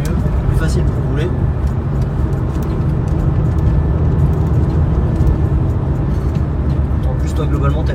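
A Peugeot RCZ drives along a national road, its engine and tyre roar a steady, loud drone throughout while people talk inside the car.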